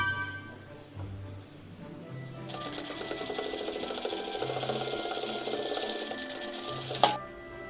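A sewing machine stitches a tuck in fabric, starting after a few quiet handling sounds and running in a steady, close, fast mechanical whir for about five seconds before stopping with a click.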